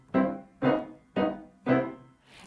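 Four evenly spaced piano chords from a Prokofiev piece, played as written, struck one after another, each decaying quickly, played alone and close.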